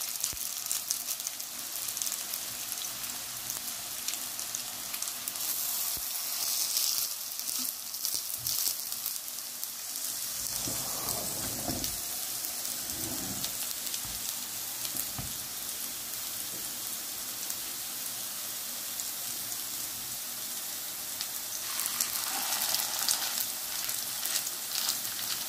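Turkish chicken köfte cooking slowly in a pan over low heat, a soft continuous rain-like sizzle with faint crackles, steady and close, no talking.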